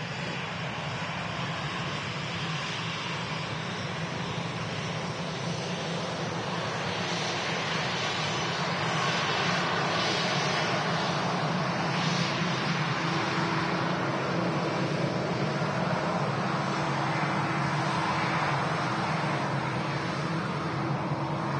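An Air France Airbus A320 jet taxiing and turning onto a taxiway at Manchester Airport gives a steady, broad engine roar that holds at an even level throughout, with no talk.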